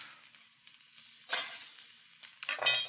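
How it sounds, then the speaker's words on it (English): Onions sautéing in a pan give a soft, faint sizzle, broken by a few louder stirring scrapes near the end, with no voices. "I'm going to let those saute a little bit"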